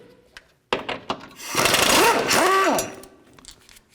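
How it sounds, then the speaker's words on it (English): Bolts being loosened with a 19mm socket on the front lower control arm of a 2006-2018 Toyota RAV4: a few sharp metallic knocks, then a loud sustained whirring with rising and falling pitch sweeps like a power tool spinning, close by. "Now I'm going to remove these bolts back here using a 19mm socket."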